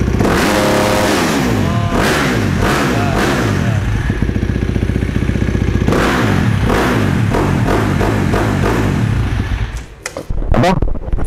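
Supermoto motorcycle engine revving up and down repeatedly, loud and close, with harsh rising and falling throttle blips and a steady rumble filling the whole stretch.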